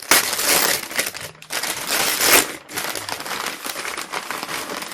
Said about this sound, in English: I got a couple things wrapped up. I'm going to have to unwrap for you.